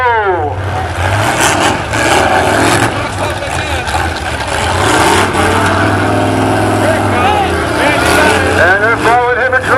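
A truck at a Pumpkin Smash event revs and drives with a loud, continuous engine roar that rises and falls, under steady commentary from an announcer.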